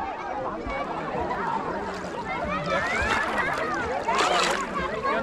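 Water splashes and sloshes steadily as someone swims in the Ganges river at Chakdah, with indistinct voices mixed into the continuous churning.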